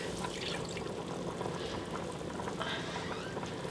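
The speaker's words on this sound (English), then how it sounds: "the pan has heated and we're going to add 1 cup of milk" A cup of milk pouring into a heated pan for southern-style mac and cheese, a steady close hiss and trickle of liquid striking hot metal, continuous and even, with no voices.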